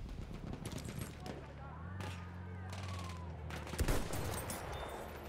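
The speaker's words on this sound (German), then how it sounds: "Man kann auch übertreiben jetzt mit der Artillerie." Distant artillery and gunfire from a Battlefield 1 battle crackle as a low, muffled barrage, with one heavier nearby impact toward the end, while someone talks quietly over it.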